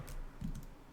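Faint typing on a computer keyboard: a couple of soft, quick key clicks in a quiet room.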